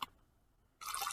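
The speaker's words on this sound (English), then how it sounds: "you're going to pour some water" Water is poured into a plastic bag for a water cycle demonstration, a brief drip at the start followed by a sudden loud rush of splashing liquid that runs to the end.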